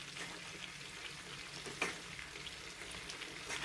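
Tilapia fries in hot oil with a steady, close hiss, one brief louder crackle partway through, fish left to cook on its second side after breaking apart.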